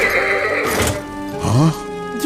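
A horse whinnies loudly and close by, its neigh rising and falling over a droning background, with a second shorter whinny following.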